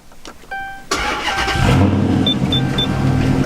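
A Dodge Charger engine cranks and fires during a brake upgrade job, catching with a loud burst and settling into a steady, close idle that continues to the end.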